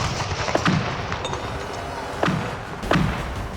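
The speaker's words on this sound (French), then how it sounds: "Après les tirs de canon" Several heavy booming blasts of cannon fire at the Battle of Waterloo, roughly three of them spaced a second or so apart, resounding over a rumbling background.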